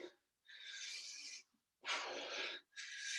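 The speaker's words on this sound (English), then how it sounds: "Breathing as you go." Three slow, airy breaths come close to the microphone during a stretching exercise, each a long whooshing inhale or exhale separated by short silences.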